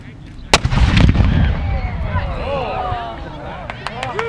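Civil War reenactment cannon fires with one loud sharp boom, followed by a rumbling tail and crowd noise; more distant pops and bangs follow while people talk.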